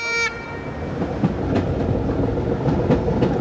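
The Royal Scotsman diesel train sets off with a brief horn blast, then settles into the rumble of moving rail cars with intermittent wheel clicks and squeals, heard from on board.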